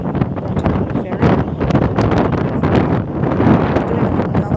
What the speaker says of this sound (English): I'm holding my hat on my head because it's quite windy up here.